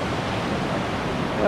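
Fast-moving deep creek water in the Kananaskis wilderness, a broad, steady rushing roar, close and continuous without break, swelling slightly louder right at the end.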